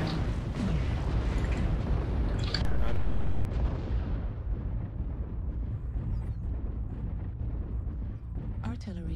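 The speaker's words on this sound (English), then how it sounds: "Artillery strike activated." Heavy, rumbling artillery strike explosions in a video game battle crash and roll on continuously for several seconds, then fade into a lower rumble with a few scattered sharper impacts.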